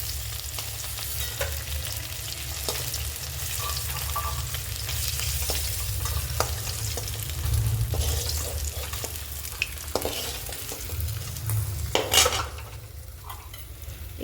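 Fish sizzle steadily in hot oil while pieces are flipped and stirred, with scattered utensil scrapes and clinks over a dense, continuous frying hiss throughout.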